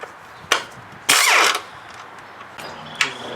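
A ratchet works on intake manifold brackets of a 2000 Chrysler 300M engine, making close, brief mechanical clicks and one longer whirring ratchet burst, separated by quiet gaps.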